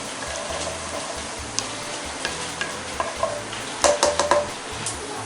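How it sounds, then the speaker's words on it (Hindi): Cumin seeds and a black cardamom sizzle in hot oil alongside a piece of cinnamon stick, giving a soft, steady crackle broken by sharp metal clinks and scrapes of a spoon against the pan that grow busier toward the end. "चलिए जीरा हमारा तड़कने लगा है"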